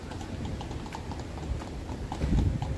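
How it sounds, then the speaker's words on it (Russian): Horse hooves clip-clop on a street near Wawel Castle in Kraków, a steady near rhythm of hard knocks over city background noise. "Трамвайчик, лошадки."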